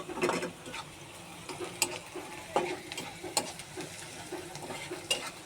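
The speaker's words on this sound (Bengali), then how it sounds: "ভালোভাবে নেড়ে হালকা মজিয়ে নেব" Onions being stirred in a pan for a Bengali mutton and chana dal dish, with a steady soft sizzle under repeated scraping clicks of a spatula against the pan, close and moderately quiet.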